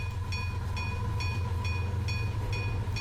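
A train from the game 9:22 rolls past in a steady low rumble, with a bright tonal whine and evenly spaced rhythmic clacks about every half second, loud and continuous.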